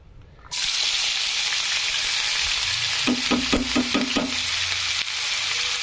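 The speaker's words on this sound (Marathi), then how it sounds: "हा पांढरा कांदा आहे आणि सुनेरा होईपर्यंत असं छानपैकी तळून घ्यायचं कांद्याला" Chopped white onion hits hot oil in a kadhai for egg bhurji and bursts into a loud, continuous sizzle, with a quick series of spatula scrapes stirring it midway.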